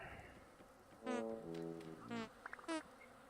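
Honeybees buzz around a row of beehives in a few short, loud passes that swell and fade, with brief bursts between them over a faint outdoor background.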